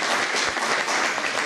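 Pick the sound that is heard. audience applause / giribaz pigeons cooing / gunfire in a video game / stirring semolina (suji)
audience applause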